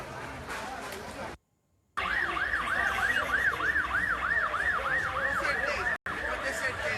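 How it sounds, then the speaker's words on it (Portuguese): An emergency vehicle siren wails in a rapid repeating up-and-down pattern on a street during carnival, loud and steady amid crowd and traffic noise, with brief dropouts in the sound. "Algum barulho de sirene"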